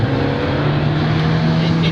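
An Alfa Romeo 4C sports car drives along a road in Abruzzo, Italy, its engine holding a steady, loud, droning note from inside the car throughout.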